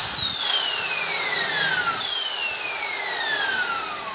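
An Ingco corded electric impact wrench whirs at a high pitch close by, and its whine sweeps downward in two successive runs.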